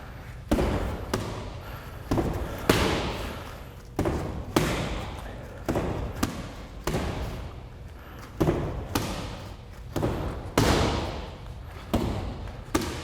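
Punches and kicks thudding into a long heavy bag in a boxing gym, a steady series of deep, solid impacts roughly every second, close and loud, with faint background noise between strikes.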